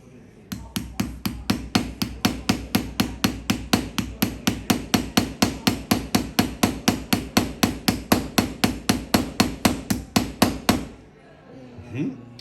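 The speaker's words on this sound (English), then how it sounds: "So which parts do I hammer?" Metal parts of a Swiss Army Knife are hammered by hand in a workshop in Switzerland: about forty quick, evenly spaced, loud close strikes in a steady rhythm, then a pause with a faint shuffle.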